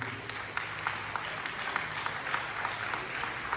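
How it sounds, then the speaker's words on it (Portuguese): A church congregation at a Pentecostal service claps steadily together, a dense, even patter of many hands with no voices over it. "Então aplauda Jesus"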